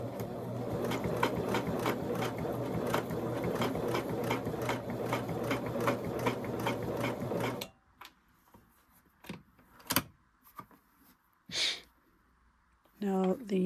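A Singer sewing machine stitches a zigzag at a rapid, even mechanical chatter for about seven seconds, then stops, leaving a few clicks, handling knocks and a brief voice.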